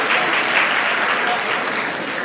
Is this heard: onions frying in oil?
no